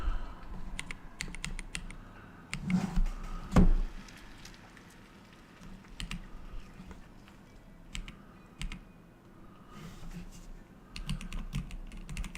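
Someone types on a computer keyboard, with bursts of clicking keystrokes and a few heavier thumps, set against a low room hum with no one speaking.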